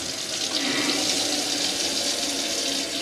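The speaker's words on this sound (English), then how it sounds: "you'll be able to use the tap." Water running from the tap in an Adria Sonic 700DL motorhome, a steady close hiss of flowing water into the sink that holds evenly throughout.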